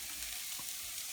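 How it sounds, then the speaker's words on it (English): Onions sizzling in a wok for egg fried rice, a steady soft frying hiss with a faint low bubbling, even and close throughout. "So I'm just going to fry my onions up"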